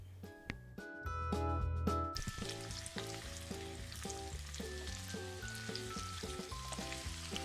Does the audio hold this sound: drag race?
no